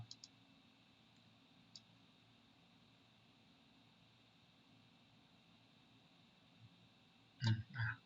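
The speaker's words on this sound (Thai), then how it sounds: "จากนั้นก็คลิกแทรกเข้าไป" Computer mouse clicks sound while a picture is selected and inserted into a slide, a few faint, sparse ticks over quiet background hiss, with a louder cluster of clicks near the end.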